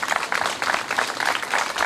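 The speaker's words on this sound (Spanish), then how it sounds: "Me gustaría darle un aplauso al señor Rubén Materzón, que no vino." Steady applause from a crowd at a memorial march in Santa Fe, a dense continuous patter of many hands clapping, moderately loud and unbroken for the whole stretch.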